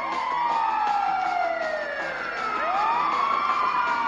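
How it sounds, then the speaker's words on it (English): Wailing ambulance siren from the video game GTA 5, loud and continuous, with sweeping rising and falling tones that swoop sharply at intervals, heard alone without voices. "Oh, it's the ambulance!"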